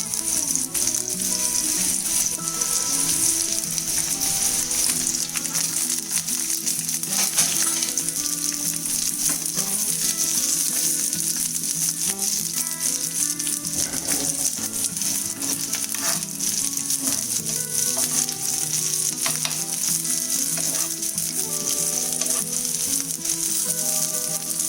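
Shallots, dried red chillies and curry leaves fry in hot coconut oil for a Kerala-style prawn curry, giving a dense, continuous sizzle up close. Light clinks of stirring break through it now and then.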